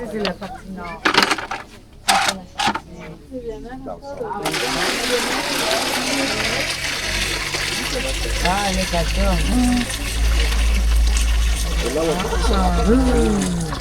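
Water carrying leaves drains and swirls down out of a basin in Ecuador near the equator, a steady rushing gurgle that fills most of the stretch after a few sharp knocks, with people talking over it.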